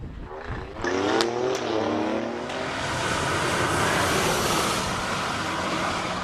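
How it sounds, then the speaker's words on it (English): An SUV races up a hill-climb track at a Cape Town speed event, its engine revving hard and climbing in pitch, then settling into a loud, sustained roar close by. "Jacob's preferred SUV takes on the track all the way up"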